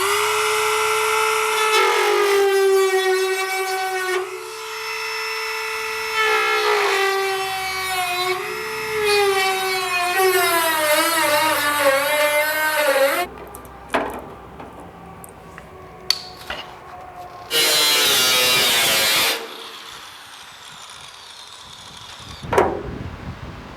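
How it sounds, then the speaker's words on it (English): A Dremel rotary tool cuts into a car hood while hood pins are installed, giving a close, loud, high whine that rises and falls in pitch over several long runs, then breaks into short, choppy bursts separated by quiet gaps. "we'll be using a Dremel from here on out"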